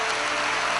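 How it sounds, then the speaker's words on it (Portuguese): Church congregation applauding during a Brazilian evangelical service, a dense, steady wash of clapping throughout this brief moment. "E todos, uma grande salva de palmas a Jesus"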